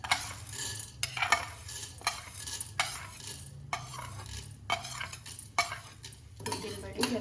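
Chana dal and urad dal frying in oil in a pan for moringa leaf chutney, with repeated metallic scraping and stirring strokes of a spoon against the pan over a soft background sizzle, no voices.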